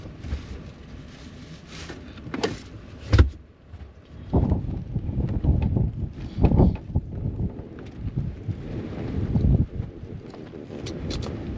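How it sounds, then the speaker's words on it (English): Strong wind blowing outdoors in the Southwest during camping, gusting in irregular rushes and buffets with rumbling bursts on the microphone, loud and close, no talking. "The wind, it's not really the weather, it's the wind."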